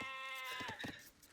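In the Age of Empires game, a sheep gives a short, quavering bleat, then a few faint choppy bleats follow within about a second.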